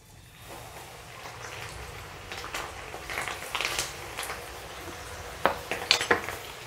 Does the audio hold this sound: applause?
no